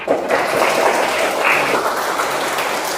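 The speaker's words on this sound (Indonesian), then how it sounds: "Ya, tepuk tangan dulu." A classroom of students claps steadily, a dense, even wash of applause that holds at the same level for a few seconds, then stops.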